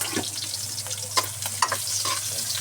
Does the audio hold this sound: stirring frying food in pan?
yes